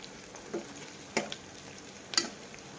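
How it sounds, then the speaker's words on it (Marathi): Sliced onions frying in hot oil for a mutton recipe, a faint, quiet sizzle broken by three short spatula scrapes spaced about half a second to a second apart, no speech. "तेल वेगू छे गरम, कांदा नाख दू छू। मिक्स कर लू ना। कांदा ना कलर चेंज वेस ताई भूंजलू छू।"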